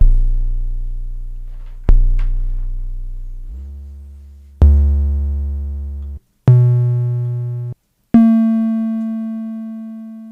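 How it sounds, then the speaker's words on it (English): Five sampled FM drum synthesizer notes struck one after another, each a sharp attack with a decaying tonal ring, some dropping in pitch, the later ones higher and buzzier. "This time I'm going to sample the FM drum, which is basically a very primitive synthesizer"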